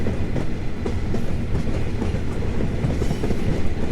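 A BB26000 locomotive hauling a freight train rolls into a station in Train Simulator, a loud steady rumble with rhythmic wheel clickety-clack throughout and no talk.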